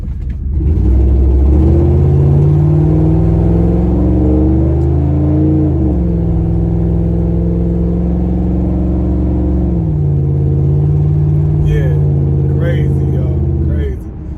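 A car fitted with a custom dual exhaust pulls away under acceleration, its engine rising in a loud, close, sustained rumbling drone with steady shifts in pitch, running alone for about fourteen seconds.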